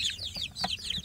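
Kampung chicks peep and cluck in quick high bursts, a small flock close by with no talk, sounding for about a second.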